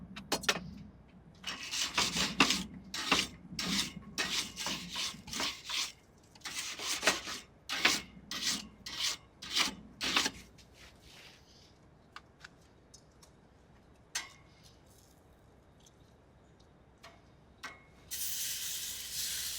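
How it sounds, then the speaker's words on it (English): Barbecue grill grates being scrubbed with a brush, a run of rhythmic, close, scratchy strokes for about ten seconds, then sparse clinks and a brief hiss near the end. "Good time to clean those grates too."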